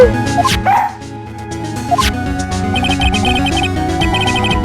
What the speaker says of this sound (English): Look, Nick, cute dog. Cute dog.